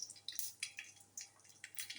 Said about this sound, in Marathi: मोहरी खूप तडतडली बघा.